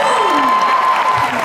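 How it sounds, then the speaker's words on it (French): Audience applause at a live dance show on tour, a dense burst of clapping with some cheering from the crowd, mixed under an announcer's voice. "On peut encore les applaudir"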